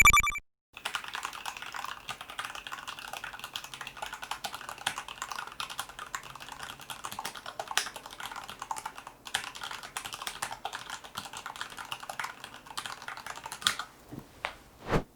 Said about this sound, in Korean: 체리 청축 스위치를 이런 식으로 그대로 조립해서 쓰면 이 키는 체리 청축